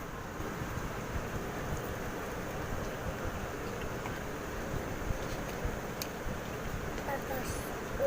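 Steady rain falls inside or around a house, a soft constant hiss with faint scattered drops and a few sharper ticks, continuing evenly throughout.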